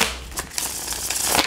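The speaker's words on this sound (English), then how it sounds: "I'm going to give them one more shuffle on the camera" Brisk papery riffling of a tarot deck being shuffled, a quick burst of dry card flutter up close with soft slaps at start and end.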